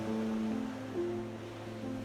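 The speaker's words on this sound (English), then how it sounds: "the rhythmic sound of waves and the calls of seagulls" Ocean waves on the Nova Scotia coastline make a steady, broad wash of surf that swells gently over two seconds, with a low constant rumble underneath.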